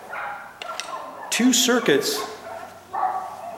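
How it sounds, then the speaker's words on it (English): Dogs bark outdoors in a few short, fairly loud bursts while someone talks nearby during home electrical work on a light switch. "I got some barking dogs out here."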